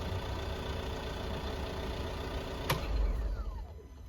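A VW Transporter T6.1 van engine idles steadily at moderate volume just after an oil change, a low continuous rumble with a brief click near the end before it quiets slightly.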